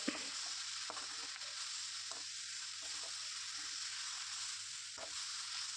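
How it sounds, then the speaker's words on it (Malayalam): Fenugreek leaves and potato are stirred in a hot pan for aloo methi, producing a steady, moderately quiet sizzle with occasional soft scraping taps from the spoon. "ഇതിനെ ഒന്ന് നല്ലോണം ഇളക്കിയതിന് ശേഷം ഒന്ന് വാടിയതിന് ശേഷം നമുക്ക് ബാക്കി കൂടി"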